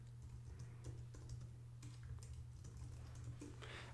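Quiet, close typing on a computer keyboard, short runs of light key clicks under a steady low electrical hum, with no voice.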